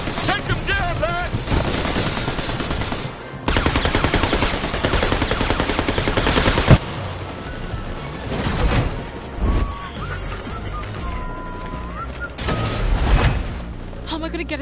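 Covering gunfire in New Tales From The Borderlands rattles in long, loud automatic bursts, mixed with crashes, game music and tonal effects, with brief pauses between the volleys.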